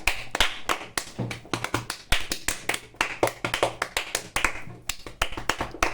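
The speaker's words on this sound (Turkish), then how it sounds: "Alkış alabilir miyiz lütfen?" Applause at a small gathering, a few people clapping in distinct sharp claps, close and loud, with an uneven rhythm and short gaps throughout.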